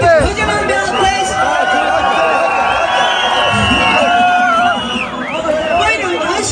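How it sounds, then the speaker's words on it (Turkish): A loud crowd at a Kurdish wedding celebration chatters and cheers, with whoops and overlapping voices under bright, sustained music-like tones; clapping is not distinct beneath the din. "Kocaman bir alkış."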